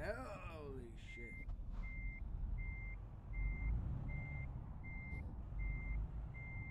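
A truck in Euro Truck Simulator 2 backing up a trailer, its reversing alarm giving steady evenly spaced beeps over a low engine rumble, with a brief hiss of air brakes at the start.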